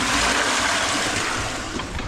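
A toilet is flushed during work on a blocked drain, a loud continuous rushing roar of water that holds steady and eases slightly toward the end, close up with no talk.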